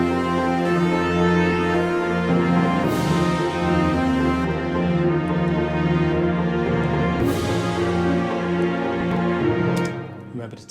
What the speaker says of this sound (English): Just the orchestra sounds like this.